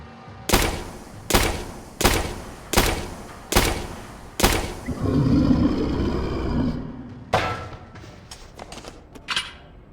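Shotgun in the survival horror game Tormented Souls fires six loud, evenly spaced blasts, each with a short decay, followed by a roaring creature growl and a few further rapid sharp impacts.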